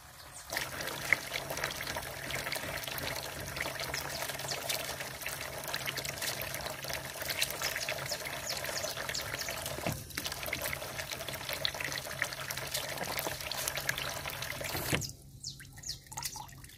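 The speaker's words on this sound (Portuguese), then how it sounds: "a torneira fica caindo" Kitchen faucet at a country house left running, a steady close trickle and splash of water that goes on without pause, then cuts off near the end leaving quieter room sound.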